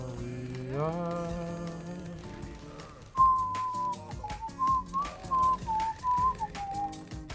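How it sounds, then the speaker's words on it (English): A person whistles a wavering melodic tune right into a gaming microphone, loud and close, with game sound effects and sharp clicks in the background. "Sorry, I just whistled into the mic,"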